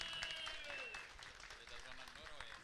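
Audience applause for a DJ at a DJ battle, a fairly faint burst of clapping with crowd noise behind it, lasting a couple of seconds.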